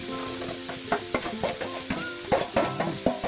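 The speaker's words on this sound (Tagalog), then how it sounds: "igisa natin itong papaya" Papaya seasoned with pepper sautés in a pan for Ilocos empanada filling, a constant sizzle broken by rhythmic clinks and scrapes of a spoon stirring against the pan.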